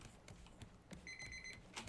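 A timer alarm in the raft survival game Raft rings as a bright, steady electronic tone for about half a second, standing out over faint game ambience and clicks.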